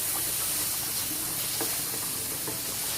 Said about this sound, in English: I'm just going to let this sizzle on a low heat